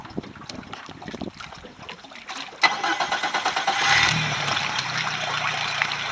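A Yamaha F30 outboard motor cranks with a rapid series of starter pulses, then catches and settles into a steady, loud idle that runs to the end.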